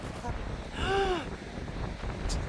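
Strong wind blowing across an island coast by a small beach on Muuido, Korea, roaring steadily into the microphone as a low rumble. A voice briefly rises over it midway.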